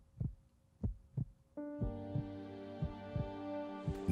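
Slow heartbeat thumps in a bank advertisement, a few soft double pulses alone at first, then continuing faintly under a swelling sustained musical tone.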